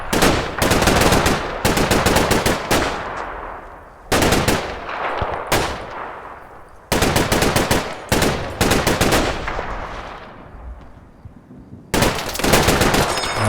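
A light machine gun in the WWII Normandy war game Combat Mission: Battle for Normandy fires repeated loud, close bursts of rapid shots, with short pauses and echoing tails between volleys.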